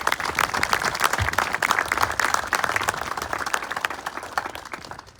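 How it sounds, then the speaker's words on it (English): A crowd gives sustained applause at a ribbon cutting for a distribution center in Marion, dense clapping from many hands, loud and close, tapering slightly toward the end. "they all deserve a good and big round of applause for all of their efforts here"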